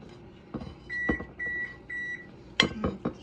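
Oven beeping when preheated and ready while baking cornbread: a series of short, evenly spaced electronic beeps among faint kitchen clatter and knocks, fairly close.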